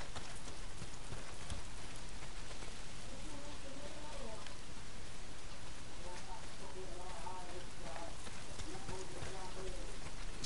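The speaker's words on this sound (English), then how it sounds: "Well, not if it's pissing down rain." Heavy rain pours down in the open-world zombie game Days Gone, a steady dense hiss that fills the whole clip with no breaks, while faint voices murmur underneath at times.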